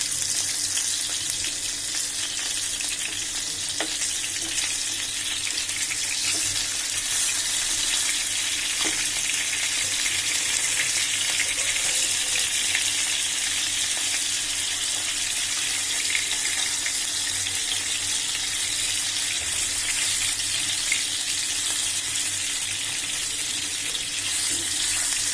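Fish pieces fry in a hot pan of oil with a steady, dense sizzle that holds throughout at an even level, close up and with no one talking.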